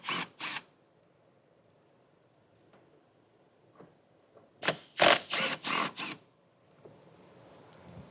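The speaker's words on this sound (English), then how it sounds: "we have 4 8mm bolts to remove. Start at the bottom and work your way up" A hand ratchet removes 8mm bolts inside the wheel well of a 2022 Jeep Grand Cherokee WL, giving two quick clicking bursts, a quiet pause, then five rapid close, crisp ratcheting runs in a row.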